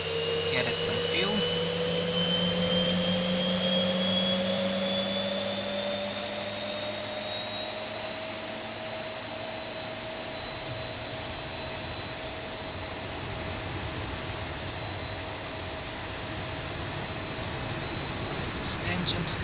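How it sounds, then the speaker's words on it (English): A Boeing 737-800 jet engine spools up in a flight simulator game, its whine rising steadily and settling into a sustained roar with a constant airy rush. "This engine has started."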